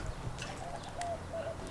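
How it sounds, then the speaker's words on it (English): Pigeon perched close by on a parked turbocharged Honda Del Sol, giving a few soft, short coos over steady low outdoor background noise. "there's a pigeon on my thing"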